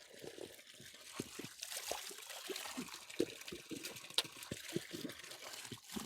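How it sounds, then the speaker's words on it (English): Natural water flowing and trickling in a remote African village near the Kenya–Uganda border, a soft continuous babble with small splashes and drips close by. "listening to this, water flow"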